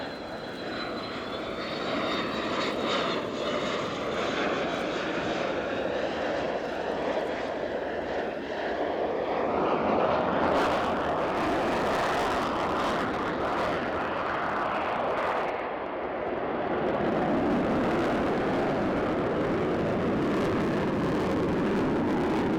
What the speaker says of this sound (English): the slow pass now down at about 150 with the undercarriage coming down